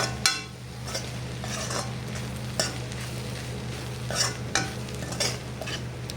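Onion paratha filling stirred together with garam masala and ground cumin and pepper, a run of close, rhythmic scraping and spoon-on-bowl strokes repeating about every second over a low hum, with no talk.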